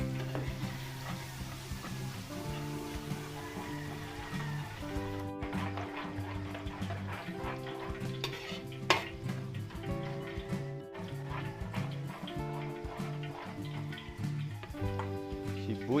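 Garlic frying in a pan, a steady sizzle with occasional stirring clinks, playing under background music with no talking.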